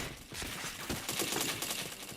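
Rapid bursts of gunfire from a shooter video game crackle densely and loudly for about two seconds, with no voices over them.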